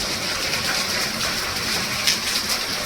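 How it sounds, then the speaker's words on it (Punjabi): Heavy rain pours down steadily as a loud, dense, unbroken wash of water, close and constant throughout with no voices. "ਮੀਂਹ ਦੋਸਤੋ ਪੈ ਰਿਹਾ ਬਹੁਤ ਜ਼ਿਆਦਾ ਤੇਜ਼"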